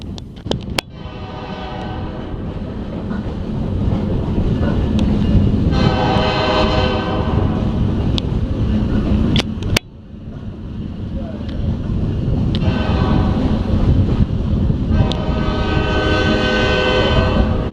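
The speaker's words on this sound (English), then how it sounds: "This engine is serving as a switching locomotive in the yard." An Alaska Railroad switching locomotive rumbles steadily through Anchorage Yard, its horn sounding in long blasts, with wind buffeting the microphone.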